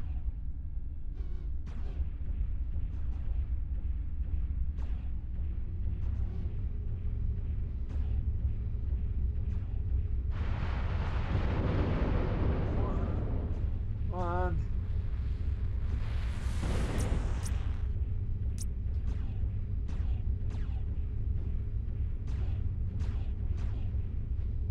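Mech weapons fire in MechWarrior Living Legends, heard as bursts of chain fire and grouped volleys: sharp repeated shots over a steady rumble, with a dense roaring salvo in the middle and a high electronic whine.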